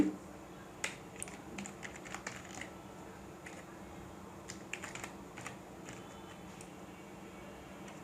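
Quiet clicking on a computer keyboard while typing HTML formatting tags, short bursts of keystrokes separated by pauses, close but faint with no talk.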